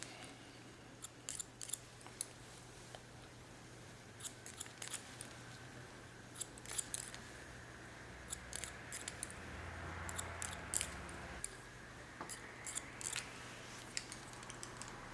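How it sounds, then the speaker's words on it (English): Hairdressing scissors cut hair in a blunt line with crisp, short snips, close and fairly quiet, coming in irregular clusters over a low steady background hum. "Pick them up. And cut them on the line I set out."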